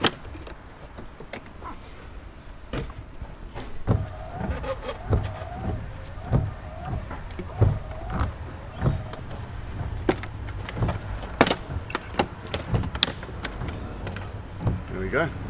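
Plastic dashboard trim being pried up along its edge on a 2008 Toyota Hiace, giving a run of close, sharp clicks and snaps at irregular intervals while someone talks over the work.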